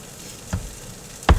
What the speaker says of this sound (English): because of the noise from the cooking